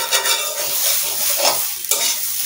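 Biryani masala sizzles in a hot pan while a spoon scrapes and stirs it in quick repeated strokes, close and loud with no talk.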